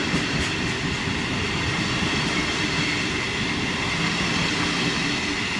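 A Trenitalia regional train pulls into platform 9 at Venezia Mestre with a loud, continuous rumble and rolling rail noise, steady and near throughout.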